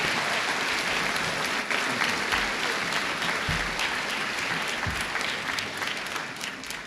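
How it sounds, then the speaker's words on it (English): Crowd at a high school graduation giving a round of applause, a steady, dense wash of clapping from a large audience that slowly tapers off, with a few low thumps. "Give them a round of applause"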